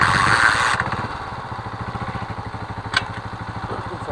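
Carbureted motorcycle engine with an idle adjustment fault, idling on its own at around 1500 rpm. It runs as a steady, close, loud pulsing putter with an even beat, alone with no talk.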